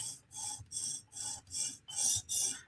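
Forward and reverse strokes of a sharpening stone on a TSProf system working the edge of a Chris Reeve Sebenza knife; six even, close rasping passes with short pauses between them.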